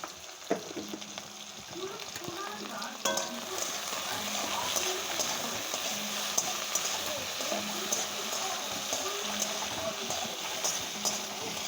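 Salted food fries in a pan with a steady, close sizzle and crackle, broken by occasional clinks and scrapes from stirring.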